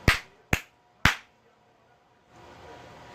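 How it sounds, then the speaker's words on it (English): Three sharp, separate hand claps from one person, close and fairly loud, evenly spaced about half a second apart, then a quiet hiss of room noise. "I don't really feel like I need to clap, but you might need me to, so I'll do it for you"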